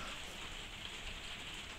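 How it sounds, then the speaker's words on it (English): Heavy rain drums steadily on a conservatory roof, a dense, continuous hiss close around the room with no letup and no voices over it. "every time I think I've done a video in here, it's been raining, so apologies again for the sound"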